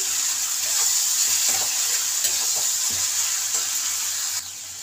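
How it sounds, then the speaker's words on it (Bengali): Spice paste for veg moong dal sizzles steadily in hot oil with a loud continuous hiss, while occasional faint scrapes of the spatula sound through it. "এবার মশলাটাকে খুব ভালো করে আমি কষিয়ে নেব।"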